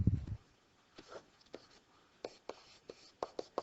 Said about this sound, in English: Let me write it over here.